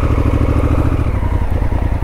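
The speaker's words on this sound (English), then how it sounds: "Now if you just accelerate, it'll go." A Honda Africa Twin with dual clutch transmission, ridden with ABS and traction control on, pulls away under acceleration; a steady, close engine drone with a rhythmic mid-low pulse runs throughout without talk.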